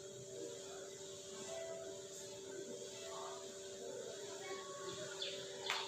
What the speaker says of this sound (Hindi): ये आवाज चिड़िया की है।